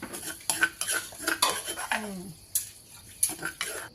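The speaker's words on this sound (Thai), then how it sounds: "ผัดแล้วนะคะกำลังผัดนะคะ" A utensil clatters and scrapes against a pan as squid is stir-fried with holy basil for Thai pad kaprao, with quick uneven clinks and knocks, close and fairly loud, and a faint sizzle underneath.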